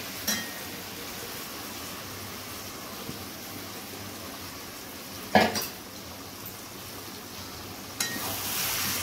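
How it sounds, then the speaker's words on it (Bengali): Marinated chicken pieces stirred and fried in spiced oil in a pot, with a steady low sizzle broken by a few sharp clinks of a utensil against the pan. "দিয়ে ভালো করে এটা কষিয়ে নিতে হবে এবং বেশ কিছুক্ষণ ধরে ভালো করে কষাতে হবে"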